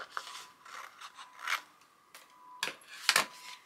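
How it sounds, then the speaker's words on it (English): Scissors trimming paper for a journal pocket page made from a comic or magazine: several short, close snips and crisp slicing cuts in an uneven rhythm, with quiet gaps between. "I might actually trim that down just slightly."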